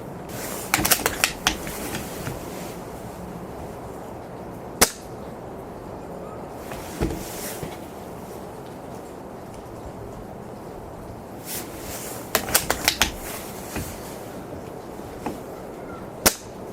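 A Silverback Desert Tech SRS airsoft rifle fires at an outdoor range in strong wind: a handful of sharp, snappy cracks, some in quick clusters, over a steady windy rush.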